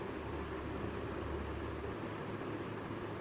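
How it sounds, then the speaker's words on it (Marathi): A kitchen mixer grinder whirs steadily as it grinds pieces of jaggery and coconut, a continuous close motor drone with grinding rattle throughout. "आता हे सर्व तुकडे मिक्सरमध्ये बारीक करून घ्यायचे आहेत"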